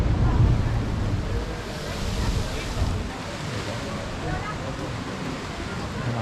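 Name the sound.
ocean wave surging into La Bufadora blowhole and spouting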